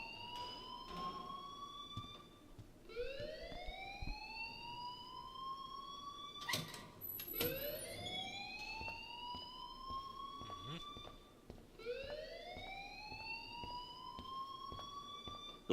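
In the Life is Strange video game, a campus alarm wails in repeated rising sweeps, steady and moderately loud, with a few sharp clicks and thumps in between.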